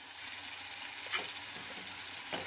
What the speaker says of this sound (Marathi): हे छान आता मिक्स झालेलं आहे, थोड्या वेळाला फ्राय होऊ देऊया।